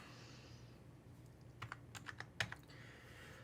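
Typing on a computer keyboard while entering figures into a hash profitability calculator; a quiet, uneven run of clicks over a low room hum, with no talk.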